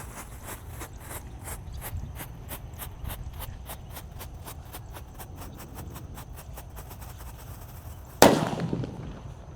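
A red disco happy flower ground firework crackles in a rapid, regular run of sharp pops, then a sudden louder burst flares up near the end.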